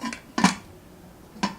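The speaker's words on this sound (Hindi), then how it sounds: "इस तरीके से हम रबड़ लगा के अपने कुकर को बंद कर देंगे।" Pressure cooker lid fitted with a rubber band being closed in a home kitchen, three short metallic clinks and clacks spaced apart, close and fairly crisp, with quiet pauses between.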